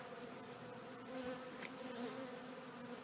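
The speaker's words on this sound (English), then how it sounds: "Just felt something buzzing around on my head then." Honey bees buzzing around a church in Fleetwood, a faint, steady insect hum with slight swells as they move about, no voices heard.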